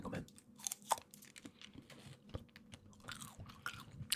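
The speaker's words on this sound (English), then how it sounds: "I'm just going to whack another chewing gum in" Soft, close-up chewing of gum, wet clicks and crackles in an irregular rhythm, quiet and with no talking.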